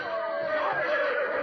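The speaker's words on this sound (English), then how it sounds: "Get those horses of yours untangled, folks." After a cab crash in a radio drama, a horse gives a loud, close, shrill whinny that wavers and holds for the whole short moment, with faint noise behind it.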